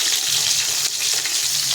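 Food pieces fry in a pan with a dense, even sizzling hiss, close and continuous, broken only by a slight dip partway through.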